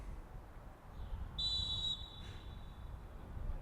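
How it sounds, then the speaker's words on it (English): Referee's whistle opening an under-19 cup soccer match at a stadium: one sustained shrill blast of about half a second, followed by a fainter trailing tone, over low crowd and wind rumble. "And there's the whistle to send us on our way."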